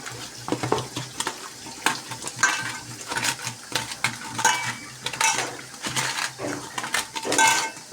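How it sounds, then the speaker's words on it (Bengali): Fish is mixed by hand with salt and turmeric powder in a bowl, with close, uneven bursts of wet squishing and clinking against the bowl, repeating irregularly. "দিয়ে মাছটাকে সুন্দর করে মেখে নিব।"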